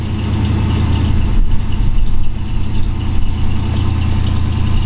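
A 1955 Chevy Bel Air with a fuel-injected, Magnuson-supercharged LS1 V8 on a Newman chassis idles steadily and close by, a loud, even low rumble with no talk over it.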